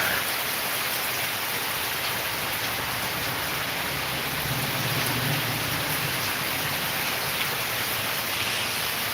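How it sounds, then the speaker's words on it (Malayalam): Heavy summer rain pours down in a thick, continuous roar, with a low rumble swelling briefly in the middle; no one speaks. "അത്യാവശ്യം കുഴപ്പമില്ലാത്ത നല്ല മഴയാണ്"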